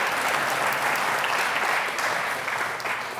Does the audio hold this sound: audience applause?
yes